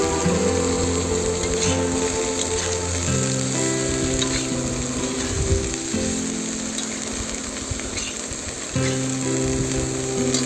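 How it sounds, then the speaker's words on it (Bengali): Vegetables sizzle steadily in a hot pan with oil after soybean chunks were fried, while a spatula scrapes and stirs them in close, uneven strokes. "এবার সবজিগুলো দিয়ে ভালোভাবে নাড়তে থাকবো"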